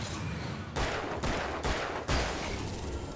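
Loud bursts of gunfire in the Alan Wake video game, rapid fusillades with three or four heavy onsets in quick succession and no talk.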